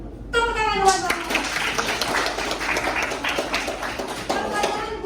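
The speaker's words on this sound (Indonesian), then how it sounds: "Tepuk tangan buat Bapak." A classroom of students clapping together for a teacher, a steady, dense burst of applause that fills the room after a voice speaks briefly at the start, with children's voices mixed in.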